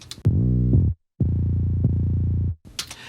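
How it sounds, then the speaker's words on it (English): Deep, booming sub-bass notes from a sub bass track sound in two sustained bursts separated by a short silence, heavy and throbbing with little high-end content. "So what I did here is I made this super subby track"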